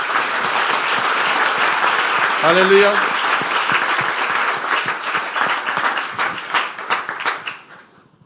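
Church congregation at an apostolic church in Dubai applauding in a sustained round, with a voice speaking over the clapping before it fades out at the end.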